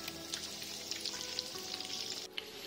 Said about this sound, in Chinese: 煎至底部呈金黄色时，用筷子翻面煎另一面，每一面的煎制时间有5分钟左右。